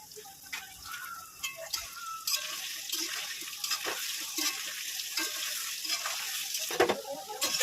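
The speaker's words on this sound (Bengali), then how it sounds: "তেলটা গরম হয়ে গেছে, আমি আলুগুলো ভেজে নেব।" Potatoes fry in hot oil for a mutton curry, giving a soft, steady sizzle with scattered clinks and scrapes of stirring throughout; no one speaks.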